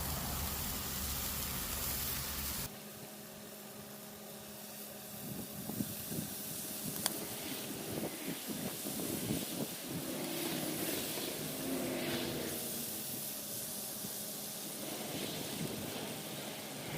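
Italian-dressing-marinated chicken thighs go onto a hot Weber kettle charcoal grill. A faint, steady hiss of sizzling begins after a small knock and carries on for about fifteen seconds, with a few light clatters along the way.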